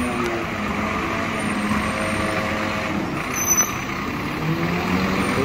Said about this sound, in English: This is how their dump trucks look here.